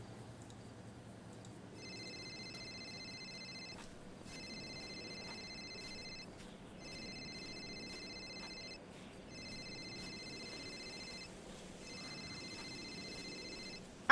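Telephone ringback tone, a series of regular electronic ring bursts separated by short pauses, repeating about five times, faint and alone with no one talking.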